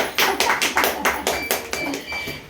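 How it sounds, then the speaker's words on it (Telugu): Several people clap their hands in a steady run of about a dozen sharp claps, close and fairly loud, with faint voices underneath. "మరి హోమియోపతికి నువ్వు క్లాప్స్ కొట్టాలి కదా"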